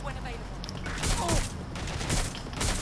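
Gunfire in the video game Watch Dogs: Legion, several scattered shots and bursts over a couple of seconds amid a busy game mix, fairly close, with some talking underneath.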